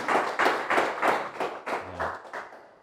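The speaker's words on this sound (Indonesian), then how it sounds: "Tepuk tangan buat beliau." Audience at an agricultural product presentation clapping in a slow, rhythmic beat, about seven or eight distinct claps, close and moderately loud with no voices.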